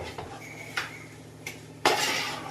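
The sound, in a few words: mixing chicken biryani in a pot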